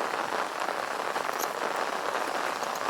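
Steady rain falls outdoors at a rural home beside farmland, a dense, even hiss of drops hitting the ground and surfaces, close and continuous with no voices.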